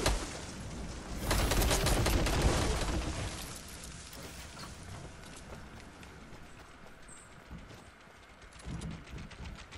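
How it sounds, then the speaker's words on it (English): Gunfire in Fortnite Battle Royale as trees are shot down, a loud burst of rapid shots and crashing debris early, then quieter scattered shots and rustling with another short burst near the end. "he's shooting the trees down"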